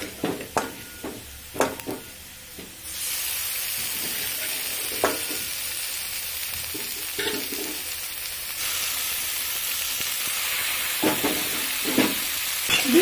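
Chicken pieces hit a pan of lightly fried onions and burst into a loud, continuous sizzle, with a few stirring scrapes and taps before and after.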